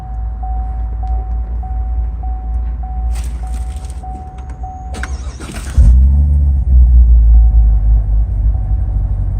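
A 2015 Corvette convertible with a muffler delete starts with a brief whine and bark, then settles into a loud, deep rumbling idle heard close by.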